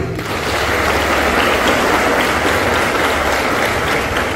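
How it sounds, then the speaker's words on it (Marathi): A large crowd at a speech event in Maharashtra applauds loudly and continuously, a thick roar of clapping hands sustained from start to finish, with no talk over it. "एकदा जोरदार टाळ्या द्या"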